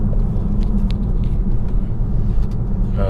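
A BMW i3 electric car rolls over a bumpy road, heard from inside as a loud, steady low rumble of tyres and suspension with small knocks from the uneven surface.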